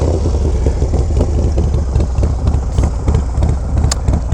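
A Harley-Davidson Low Rider ST with a 131 engine and Cyclorama 483 cam runs at idle, a loud, close, continuous loping rumble with mechanical clatter and no voices.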